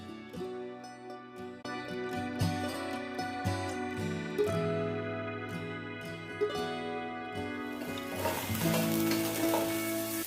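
Potatoes and okra stir-fried on a tawa give a steady sizzle with scraping stirs, under melodic background music, growing brighter and hissier near the end.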